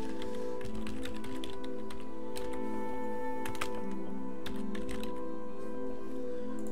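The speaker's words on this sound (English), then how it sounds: "If I could type today, that'd be helpful." Fingers type on a computer keyboard, producing quick bursts of close, crisp key clicks that vary in rhythm over a steady background hum.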